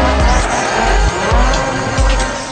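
A race car in the GRID Autosport video game drifts with screeching tire squeal over a rising and falling engine that revs in repeated bursts, loud and close.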